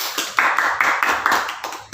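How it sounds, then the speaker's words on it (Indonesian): Small group clapping at a stunting-prevention training session, a few rhythmic bursts of hand claps in a loose repeated pattern, close and fairly loud with no talking. "tepuk tangan untuk kita semua"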